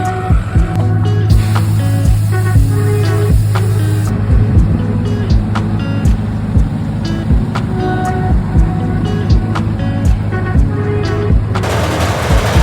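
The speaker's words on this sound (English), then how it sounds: "And then the rest of the waste is sort of blown out through here, which is why it's tied onto the trailer. It's just simple auger." A farm grain cleaner runs with a simple auger, blowing waste out the back on a trailer. It makes a loud, continuous mechanical drone with rapid rattling pulses throughout and no voices.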